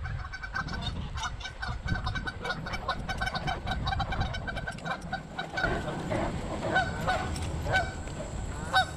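A flock of geese at a lake honks continuously, calls overlapping in a busy chorus with wind rumbling underneath.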